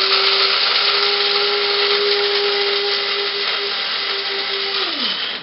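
A Mr. Coffee IDS electric blade grinder grinds coffee beans with a loud, steady high-pitched whirring drone for several seconds, its motor pitch dropping as it spins down at the very end.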